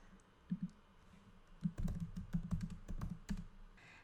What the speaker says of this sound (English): we'll just type up some draft text